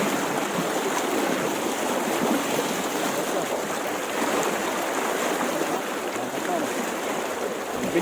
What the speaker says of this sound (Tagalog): Bilis kasi yung tubig dito eh.